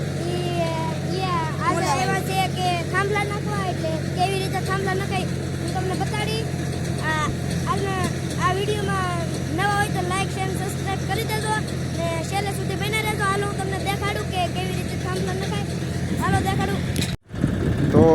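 A tractor engine runs steadily on a farm, its low, constant drone continuing throughout beneath voices and chatter, with a brief sharp cutout near the end.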